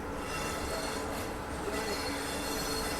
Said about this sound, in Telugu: జోలార్పేట జంక్షన్ లాగా చూసుకుంటే ట్రైన్ అయితే లోపలికి అయితే వస్తుంది